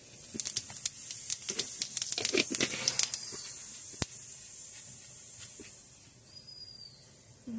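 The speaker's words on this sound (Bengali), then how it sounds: "এবার আমি এই তেলের সঙ্গে কয়টা আস্ত জিরে দিয়ে দিব।" Whole cumin seeds hit hot oil in a pan with a burst of crackling hiss and sharp pops that thin out into a softer sizzle, close and without speech.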